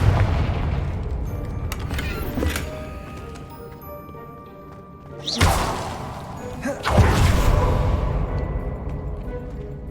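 In the game Hogwarts Legacy, Confringo spells blast against a wall, two loud booming explosions a few seconds apart, each a sharp crack with a rolling tail, over a low ambient game drone.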